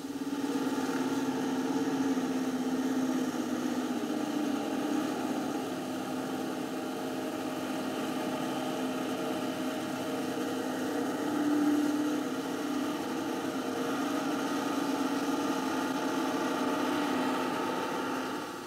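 A Magirus-Deutz truck engine running steadily during a figure-eight steering test drive, a constant mid-pitched drone with faint fluctuations, heard alone without speech.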